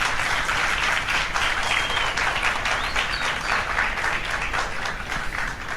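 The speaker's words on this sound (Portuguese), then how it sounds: "Uma salva de palmas aí para os nossos colegas" Sustained audience applause for the panelists at a JavaScript tech-event round-table, a dense, steady wash of many hands clapping at even loudness throughout, with no talk over it.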